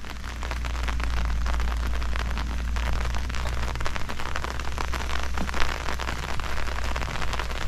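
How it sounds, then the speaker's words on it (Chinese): Heavy rain falls steadily on a valley community in Taiwan's mountains, a loud, close, unbroken roar of drops drumming on surfaces for the whole stretch. "现在下着大雨"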